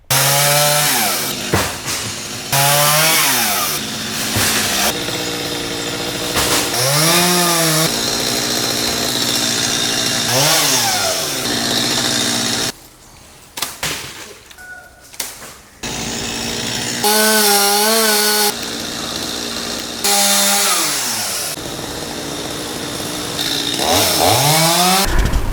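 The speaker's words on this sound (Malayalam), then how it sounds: "ഇപ്പോൾ മരം വെട്ടും തുടങ്ങിയിരിക്കുകയാണ്." A chainsaw cutting a tree, very loud and close, its engine revving up and down repeatedly in long bursts with brief drops to idle, the pitch sagging under load during each cut.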